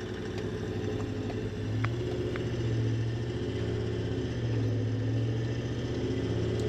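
A Toyota LandCruiser 79 Series fitted with an 8-speed gearbox conversion pulls away from a standstill. Its engine note is steady and strong, with a droning mid-low rumble that rises slightly across the gears. There is no speech.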